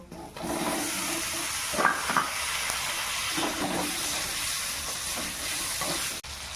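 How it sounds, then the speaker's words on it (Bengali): Chopped tomato goes into a hot pan with spices for a vegetarian potato dum. It gives a steady, close sizzle and hiss, with a brief clatter early on. "টমেটো কুচি দিয়ে দেবো"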